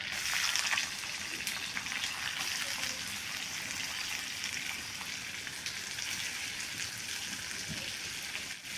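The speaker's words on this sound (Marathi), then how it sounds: "हे सर्व कांदा तेलामध्ये परतून घ्यायचं" Onions and curry leaves fry in oil with cumin for an arbi bhaji. A steady, fairly soft, rain-like sizzle runs throughout, close and continuous, with no speech.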